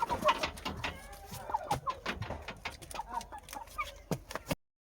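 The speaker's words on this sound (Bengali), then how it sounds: "এগুলো সব দেশি মোরগ" Local desi roosters and hens clucking in a village coop in the Sundarban area, a busy run of short clucks and calls close by, fairly faint overall.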